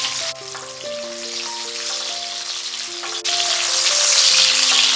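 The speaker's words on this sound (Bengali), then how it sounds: "এরপর আলুগুলো ভেজে নেব।" Salted potatoes fry in a pan with a steady sizzle that grows louder partway through, heard under sustained musical tones.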